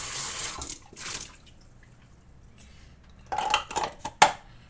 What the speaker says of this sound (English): We're gonna rinse it out.